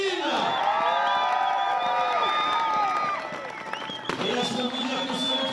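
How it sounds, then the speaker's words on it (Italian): A crowd at a ski podium ceremony in Champagny cheers and whoops for a skier, with a voice speaking over the noise throughout. "applaudissements pour Pierre Fin"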